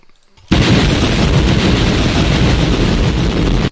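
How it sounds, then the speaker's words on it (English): A loud, sustained roar of explosion effects in a Roblox game bursts in abruptly and rumbles at an even, harsh level for about three seconds before cutting off. "I'll have some explosion sound effects."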